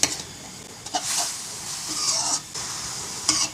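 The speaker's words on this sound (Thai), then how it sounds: "เอาไก่ มาลวนก่อนนะคะลวนให้สุกเลยค่ะ" Chicken sizzles and hisses in a hot pan, with bursts of scraping as it is stirred, close and moderately loud.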